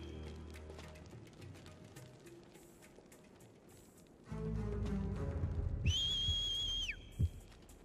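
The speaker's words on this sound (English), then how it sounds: "Whistling." A two-note whistle rings out in Shadow of Rome, sustained for about a second over dense game ambience with rumbling, rain-like noise and footsteps, followed by a short thud.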